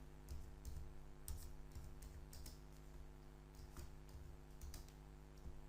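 Keys on a computer keyboard tapped in quick, uneven bursts of soft clicks over a steady electrical hum, with no voices; the keystrokes are light and fairly close.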